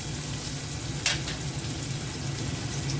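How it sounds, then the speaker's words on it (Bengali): Red amaranth leaves fry with onion and garlic in a pan, a steady soft sizzle with a brief stir clatter near the middle, no voices. "এখন আমি লাল শাকটা ভাজবো।"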